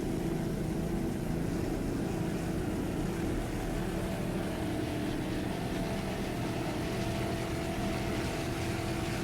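Twin 500 horsepower Mercruiser engines on a Factory 2 class offshore racing powerboat roar in a steady, dense drone, loud and constant without a break.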